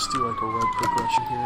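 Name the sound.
fire engine siren from nearby fire station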